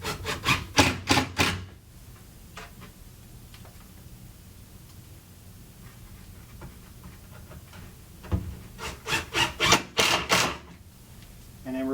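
One-inch panhead screws are driven into the wooden floor of a ready-to-assemble lazy susan cabinet in two close, rapid bursts of rattling, grinding driver pulses separated by a long quiet stretch.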